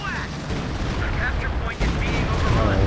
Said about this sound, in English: A walking Stuka barrage